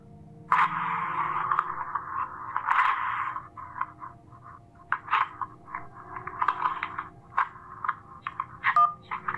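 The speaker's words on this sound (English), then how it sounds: "That was someone tearing up an electric bill." Paper being torn up in the Kentucky Route Zero video game, an electric bill ripped apart in a series of short crackling tears and rips, fairly faint, over a steady low background hum with no voices.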